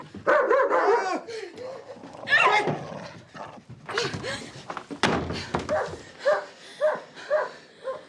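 An agitated dog barks and yelps in a rough series of harsh calls. Thumps and movement noise mix in, and the loudness rises and falls over several seconds.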